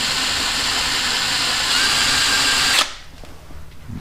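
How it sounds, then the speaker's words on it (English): A power drill whines continuously for nearly three seconds while boring a hole in a Viking trunk for tail lights, loud and close, then cuts off abruptly, leaving faint handling noise. "I'm gonna drill about right here"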